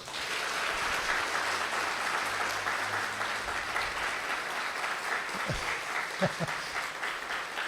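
A conference audience claps loudly together, with strong continuous applause that carries on steadily and a few louder thumps and voices near the end.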